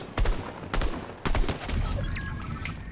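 Rapid bursts of gunfire in a first-person shooter game, sharp repeated shots in quick clusters over continuous in-game background noise, with no talking.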